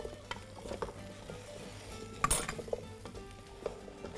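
Beetroot and potato soup with cardamom stirred in a pot: quiet scraping and soft clinks of a utensil over a faint sizzle, with one sharper knock near the middle.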